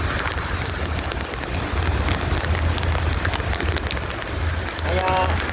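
Steady rain patters on surfaces, a continuous dense hiss of drops, with a brief bird call near the end.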